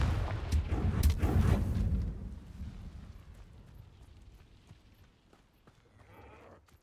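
Confringo spell explosion in the video game Hogwarts Legacy, a loud rumbling blast up front that decays into a long fading tail, with faint scattered sounds afterward.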